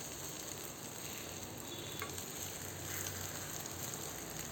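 Chilli egg paniyaram sizzles softly in the pan, a faint, even crackling hiss with light scraping, no talking.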